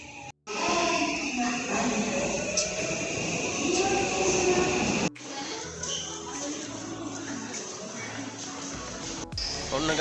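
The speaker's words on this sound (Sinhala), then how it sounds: "අපි බැස්සා ට්‍රේන් එකේ සින්ජුකු වලට ඇවිල්ලා" A train at Shinjuku station in Tokyo, a loud, close rumbling roar with rattling that cuts off abruptly partway, followed by quieter station hum and movement, with some speech mixed in.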